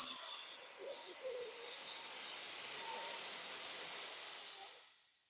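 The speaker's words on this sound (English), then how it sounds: "now this time we're going to use the lung sound to clear the central channel" A long, steady hissing exhale for the qigong lung healing sound, a breathy high hiss that holds evenly for about five seconds before fading out, with no talking.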